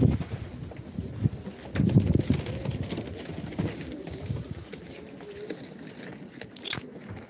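Pigeons at a live pigeon auction give low cooing calls amid handling noises and shuffling, with louder bursts early and a quieter stretch later.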